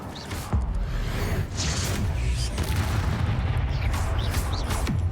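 Confringo and Incendio fire spells cast during combat in Hogwarts Legacy, a dense run of booming blasts and whooshes with rumbling low end, loud and continuous, with occasional game clatter layered on top.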